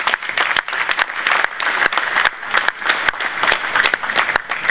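An audience at a housing show in Abuja applauds the Senate President, a lively spread of individual claps with sharp distinct hand strikes over a steady crowd wash.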